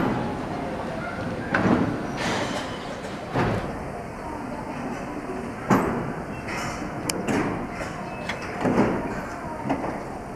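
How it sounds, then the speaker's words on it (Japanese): Doors of a Tobu 50000 series commuter train closing at platform 1 of Narimasu station, with repeated thumps and sliding rumbles at the platform, a sustained high warning tone and station announcements over the top. "1番線ドアが閉まります。"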